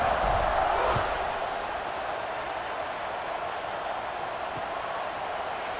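A college football stadium crowd roars at kickoff of the UCLA versus Maryland game, a loud broad swell that peaks at the start and then settles into a sustained distant rumble.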